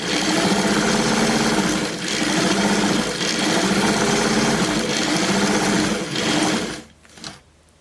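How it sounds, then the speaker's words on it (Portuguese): A sewing machine runs a long gathering stitch, set to stitch number 5, along a blouse seam, whirring steadily and loudly up close for about six seconds before stopping, followed by a brief quiet rustle. "Agora estou passando uma costura no ponto número 5 para franzir."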